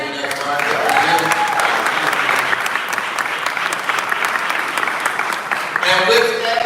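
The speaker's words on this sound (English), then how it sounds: "give yourself a round of applause" Loud, sustained applause from a crowd at a meet and greet, steady clapping filling the room throughout with a few cheers mixed in.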